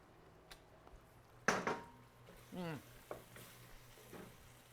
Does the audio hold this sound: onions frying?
yes